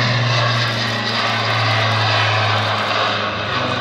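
Propeller airplane accelerating in a display at the Paris Air Show 2015: a loud, steady engine and propeller drone with a strong low hum that holds throughout, with no talk.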